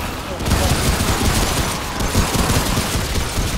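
Sustained rapid gunfire poured into a boss creature in Remnant: From the Ashes comes as a loud, continuous rattling barrage with little pause. It is mixed with game noise and faint voices.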